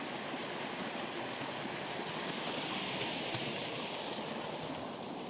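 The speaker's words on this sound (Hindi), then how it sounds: "ये झरना है" A small, partly dried-up waterfall in the hills near Lahra, Sonebhadra, giving a steady, even rush of falling water that holds at the same level throughout.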